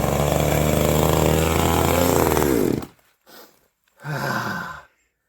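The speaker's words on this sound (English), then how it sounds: "this is a good little chainsaw" A small Sterling chainsaw roars loudly at steady speed, then cuts off abruptly, followed by a couple of brief puffs of sound.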